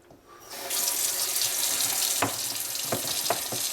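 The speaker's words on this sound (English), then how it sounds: "we're going to turn the water on right now" Water from a tap gushes into a sink over old die-cast toys being cleaned, a steady close rush with a few brief clunks and knocks as items are handled.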